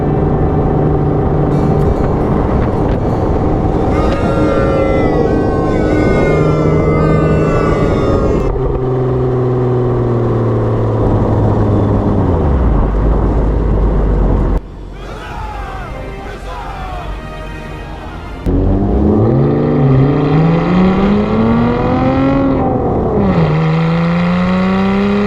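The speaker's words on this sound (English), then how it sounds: "Show me a better sounding exhaust from the factory." A Lotus sports car's factory exhaust roars and burbles close by, revving up and down through gear changes, dropping briefly quieter midway before surging again.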